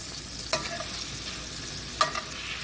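Food frying in a pan is stirred, two distinct scraping stirs over a steady, soft sizzle, close and with no talk.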